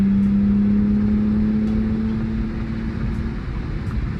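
A Hellrot BMW M3 accelerates at full throttle with a fault in its mass airflow wiring, giving a loud, droning engine note that climbs steadily in pitch and then fades as the car falls on its face.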